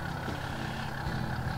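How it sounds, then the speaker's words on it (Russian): A truck engine idles in a video game, its deep, even rumble holding steady and close throughout with no voices. "И на холостых приятный звук двигателя."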